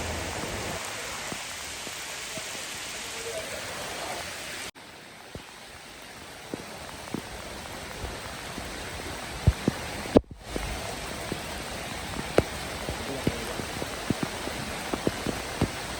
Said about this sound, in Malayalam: ഇവിടെ ശക്തമായിട്ടുള്ള മഴയാണ് ഇപ്പം പെയ്തുകൊണ്ടിരിക്കുന്നത്